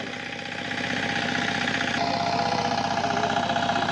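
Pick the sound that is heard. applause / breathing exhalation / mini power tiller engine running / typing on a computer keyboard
mini power tiller engine running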